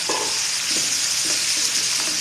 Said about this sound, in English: My meat is cooking softly and nicely.